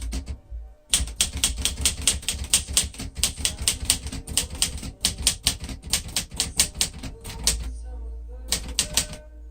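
A 1974 Underwood 315 cursive manual typewriter is typed on at a steady pace, with close, crisp key strikes in quick runs, brief pauses and a carriage sound near the end.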